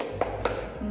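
Two sharp hand claps about a quarter second apart ring out during the tepuk motor children's clapping game, over a steady background hum.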